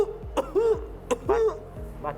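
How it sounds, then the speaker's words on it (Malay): A few harsh throat-clearing coughs in quick succession, close and loud, each followed by a short voiced sound, in a classroom-style setting about mild illness symptoms. "Batuk ni batuk manja."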